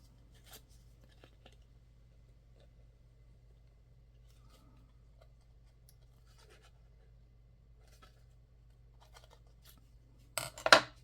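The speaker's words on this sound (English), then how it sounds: "I can lift it out of the way just a little bit so I can trim it" Scissors snip at the edge of a paper collage tag in a short, close burst at the very end, after a long near-silent stretch broken only by faint rustles and small handling taps.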